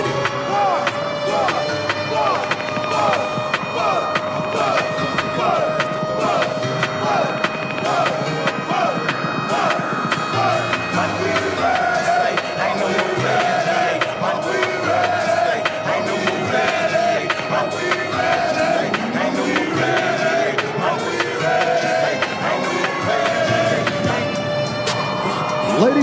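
Bay High School stadium crowd at a homecoming football game against Rutherford, a loud sustained roar of cheering and shouting with dense band-like tones and whistles throughout.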